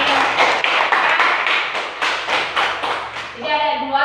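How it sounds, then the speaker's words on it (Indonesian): A classroom claps for a student, about a dozen fairly loud, rhythmic claps in quick succession that end in a brief voice near the close. "Berikan tepuk tangan dulu buat Febri."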